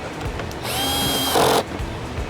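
On a Freightliner Cascadia, a power tool gun tightens a lower spot mirror housing in one close, loud whirring burst of about a second, with a pitch change near the end, between quiet handling noises.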